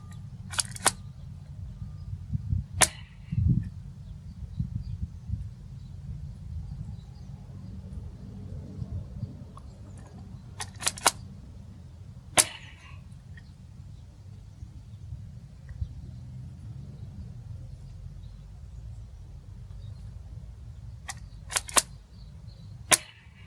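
Several sharp snapping pops from a Nerf Star Wars Chewbacca foam dart blaster fire off in scattered bursts, a few in quick pairs, over a steady low rumbling background.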